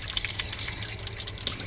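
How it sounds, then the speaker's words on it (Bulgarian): Drinking water runs steadily from an old 5th-century spring, a constant close splashing with small drips on top. "Ето го единия водоизточник от 5 век."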